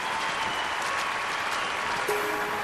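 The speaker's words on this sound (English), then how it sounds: "The crowd seem to like it." A crowd at a London 2012 Olympic diving event breaks into dense, sustained applause, steady and loud throughout with no voices standing out.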